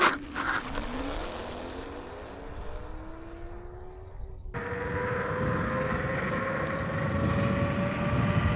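A Leoout T85 electric scooter accelerates from a stop, a motor whine rising steadily in pitch under wind rush that swells to a broad roar partway through, moderately loud.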